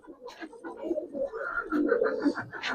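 Giribaz pigeons coo in a series of soft, throaty, repeated calls, close by and fairly quiet, overlapping into a continuous warble with no talk.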